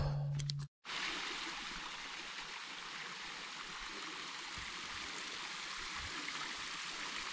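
Steady, close mountain stream flowing and trickling over rocks on a Scottish hillside, continuous and even after a brief cut at the start.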